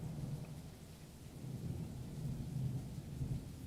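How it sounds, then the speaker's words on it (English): Steady rain with low rumbling thunder outside a window, faint and distant, a continuous wash of rainfall with a soft roll of thunder swelling in the second half, no voices. "Outside it's raining."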